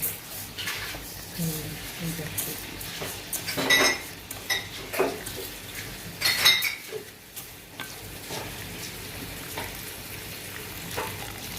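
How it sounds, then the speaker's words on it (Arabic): Boiling water is poured over soaking long-grain rice in a home kitchen, a soft splashing rush with a few clinks of a pot and utensils, while someone talks quietly nearby. "ننقعوه بمية تغلي"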